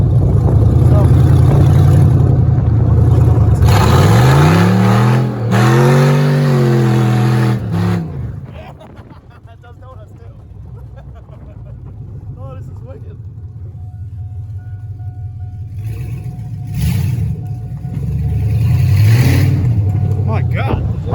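An old yellow GMC truck with a 4.8 engine revs hard during burnouts, a loud rising and falling roar with sweeping engine tones near the start and again at the end, with people talking and shouting over a steadier idle in between.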